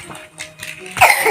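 A small child gives a few short, soft coughs nearby in a quiet room.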